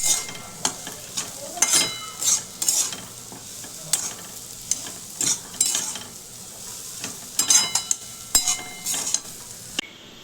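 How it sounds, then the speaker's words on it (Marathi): Kachori filling fried in a pan on a gas stove with the flame turned up, stirred briskly so a spoon scrapes and taps the pan in quick irregular bursts over a continuous close sizzle, with no talking. "आता गॅस थोडासा मोठा करते आणि पटपट ह्याला फिरवून घेते"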